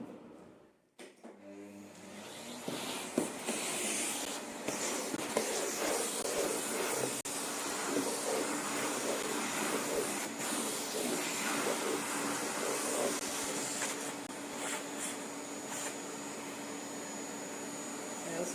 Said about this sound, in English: I will vacuum my table a moment.